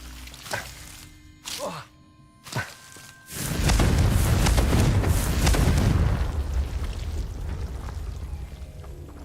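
A Confringo explosive spell in Hogwarts Legacy: a few brief whooshing casts and pops, then a big booming blast that swells into a sustained rumbling roar and slowly tapers off.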